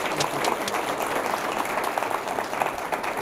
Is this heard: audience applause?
yes